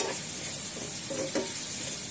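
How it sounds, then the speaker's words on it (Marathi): Onions being stirred into hot oil for a stuffed capsicum bhaji, giving a steady soft sizzle with a few brief scraping stir strokes near the middle, close and fairly quiet. "कांद्यामध्ये आणि तेलामध्ये चांगले एकजू होतील। हे चांगलं मिक्स करून घेऊ।"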